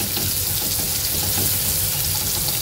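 Sliced onions fry in a pan with a dense, even sizzle that stays loud and close throughout with no pause.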